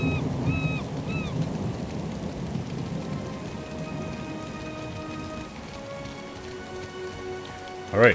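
Steady rain pours on surfaces in a video game, a continuous soft patter with occasional distant thunder rumbles, a few faint game tones and a sharp burst at the very end.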